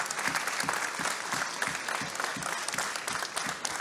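An audience claps steadily through an award ceremony for a Paris funeral-industry trophy, a dense, even wash of applause with a few louder individual claps standing out near the front.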